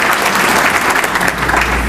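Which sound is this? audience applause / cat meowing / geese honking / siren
audience applause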